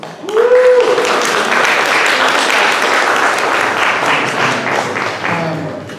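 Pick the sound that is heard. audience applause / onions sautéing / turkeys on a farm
audience applause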